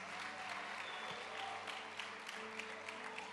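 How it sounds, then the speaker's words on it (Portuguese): Congregation applauding at a church service, a faint, steady patter of many hands clapping, heard alone over a low sustained hum in the room. "Pode aplaudir, gente."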